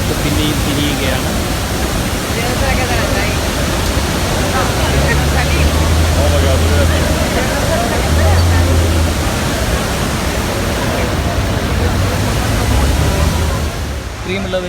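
At Devil's Throat on Iguazu Falls in Argentina, seen from a boat, a massive waterfall roars in a dense, unbroken wash close by, with voices faintly under it.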